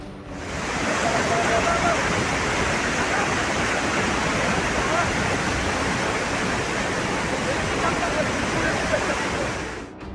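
Monsoon floodwater rushes through Rudraprayag, Uttarakhand, a loud, steady roar of churning water that holds without a break throughout.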